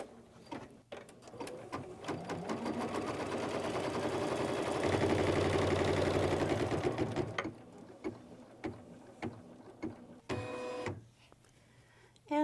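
An embroidery machine stitches a winter snowflake quilt block in the hoop: a rapid, loud mechanical needle chatter for several seconds, then scattered clicks and short whirring bursts as it stops and repositions.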